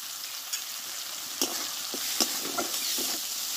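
Spice paste with Kashmiri chili powder and a little sugar sizzling in a pan: steady bright frying hiss close up, punctuated by occasional spoon scrapes and stirring knocks, no voices.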